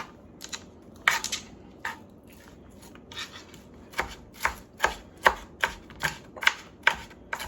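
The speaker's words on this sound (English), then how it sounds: "Just keep on chopping and pushing, you'll see them become smaller." A knife chops steadily on a cutting board, sparse at first then settling into a regular rhythm of sharp, close knocks, with no talking.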